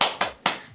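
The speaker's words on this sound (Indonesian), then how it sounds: "Tepuk semangat" Two sharp, close hand claps land in quick succession, part of a rhythmic 'spirit clap' in a classroom.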